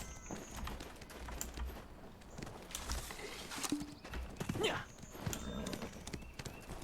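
Horse hooves clip-clop in a steady, busy rhythm in the online game Black Desert Online, mixed with clicky, keyboard-like tapping and a faint whinny-like sound partway through, at moderate loudness with no clear talking.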